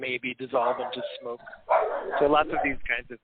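A pet dog barks and whimpers indoors, its short yips mixed in with someone talking over it on a live stream.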